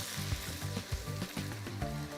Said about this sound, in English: We will fry it with the spices for a couple of minutes.